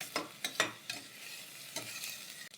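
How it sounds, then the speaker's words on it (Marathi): Finely chopped onion fries in hot oil for a village-style mutton curry, with a few soft scraping stirs and faint sizzling, fairly quiet and close. "आता तेल गरम आहे त्यामध्ये आपण कांदा घालूयात"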